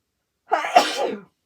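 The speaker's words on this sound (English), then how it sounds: "I think I'm going to sneeze." A single sharp, close human sneeze bursts out once, short and alone against silence.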